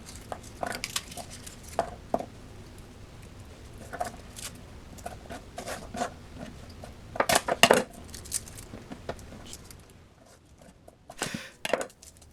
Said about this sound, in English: Garlic, dude. Smash it.